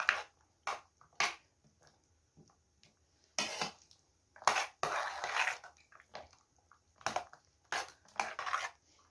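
Ingredients for a broken-glass gelatin cake are stirred together in a bowl, heard as irregular bursts of scraping and clinking with quiet gaps between them.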